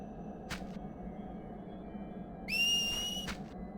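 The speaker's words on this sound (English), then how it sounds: "I hear you whistling." Whistling in the video game Final Fantasy X-2: a faint short whistle blip near the start, then a louder rising two-tone whistle in the second half over a steady low background hum, with no talk.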